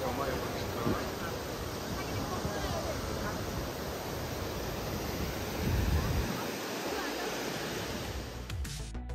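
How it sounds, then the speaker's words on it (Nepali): A steady roar of falling water from Rupse waterfall in Mustang, Nepal, broad and continuous, with some wind buffeting. "यो रुप्से झरनाको दृश्य हो"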